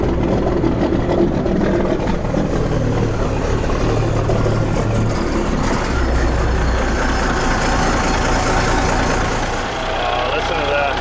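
An old truck's engine runs after a jump start, a steady low rumble with an idling character that continues throughout, close by and fairly loud, with people talking over it.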